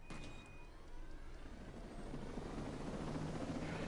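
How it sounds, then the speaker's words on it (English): A helicopter in the video game Ghost Recon Breakpoint, its steady rotor chop and engine roar building slightly louder over four seconds and continuing without a break. "I'm gonna take this helicopter."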